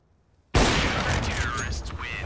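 Gunfire in the shooter game CS:GO bursts in loudly after a half-second of quiet and keeps rolling as a dense, sustained fusillade, with a voice talking over it.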